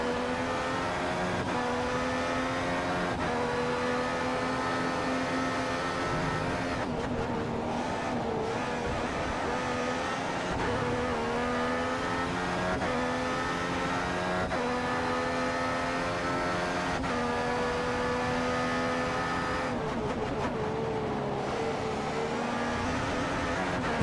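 A Formula 1 car engine in the F1 2015 racing game at the Bahrain circuit, running in rich fuel mode, screams continuously for the whole stretch, loud and close with steady high revs and brief dips on gear changes.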